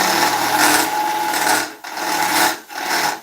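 Skew chisel cutting an oak bowl spinning on a wood lathe, a loud close rasping scrape in sustained passes, broken by two brief pauses as the tool lifts off the wood.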